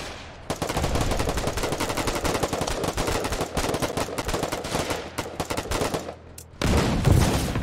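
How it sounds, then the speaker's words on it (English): Sustained automatic gunfire aimed at a pillbox in a combat video game: dense, rapid bursts of shots fired continuously for several seconds, loud and close, with a brief pause near the end before another heavy burst. "Open fire on that pillbox."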